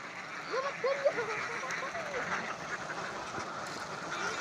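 Domestic ducks being herded along a river give scattered, fairly faint quacks over a steady outdoor background hiss.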